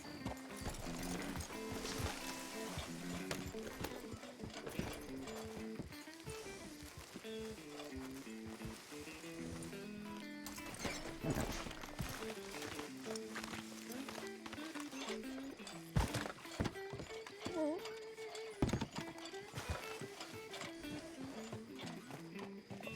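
A horse's hooves clip-clop at a steady walk as it is ridden up to a hitching post, under ongoing background noise with occasional voices and clatter.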